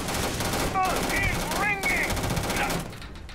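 Rapid, dense automatic gunfire in the video game Starfield, a continuous rattling burst lasting a few seconds, loud and close, with faint voice fragments mixed in.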